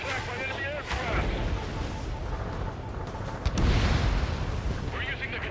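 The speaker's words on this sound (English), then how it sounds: "They've got their anti-air guns aimed right at us." Anti-aircraft gunfire in the Ace Combat 7 combat flight game, sustained booming and rumbling bursts mixed with engine roar and in-game radio voices talking over it.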